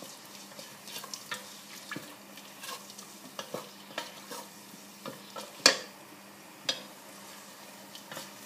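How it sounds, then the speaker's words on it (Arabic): Meat and onions sizzle steadily in a pan as a spoon stirs them, with repeated scraping clicks and light taps against the pan over a continuous low frying hiss for several seconds. "قلي انا قلي حتى لين اللحم ياخو وجه"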